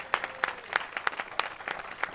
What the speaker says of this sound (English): I want a big applause for all of you guys.